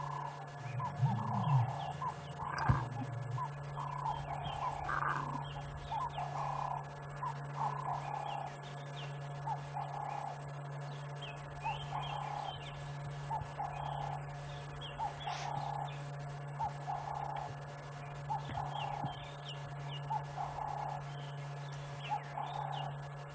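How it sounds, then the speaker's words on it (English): Cape turtle doves call repeatedly from nearby, soft rhythmic cooing phrases repeating over a quiet outdoor background at sunset on safari, with a few other birds in the distance. "The Cape turtle doves, or the ringneck doves, are making such a noise."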